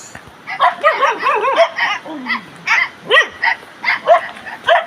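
Several dogs bark and yelp in a lively series of close, loud barks, with whining, wavering calls mixed between them.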